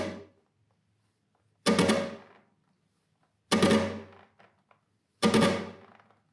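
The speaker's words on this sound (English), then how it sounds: "the last way to practice this triplet rasgado pattern is to play" Three loud flamenco guitar rasgueado strums, each a sharp rapid flurry that rings out and fades, separated by pauses of nearly two seconds.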